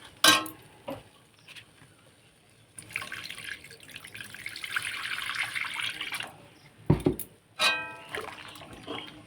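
Water is poured into a pot of cooked lentils (dal) being prepared in a home kitchen, with bursts of splashing and pouring separated by clinks and quieter stretches, close and moderately loud, with no talk.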